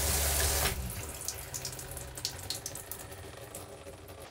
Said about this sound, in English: we're just gonna rinse it all out of the shower until it's nice and clear